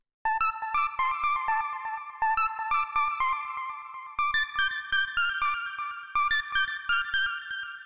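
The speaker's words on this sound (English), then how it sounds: "Next sound we have here is the lead" Bright synth lead from a classic Chicago deep house track, playing a simple repeating melodic phrase of short plucked notes with effects and echo, clean and alone, in four similar bars.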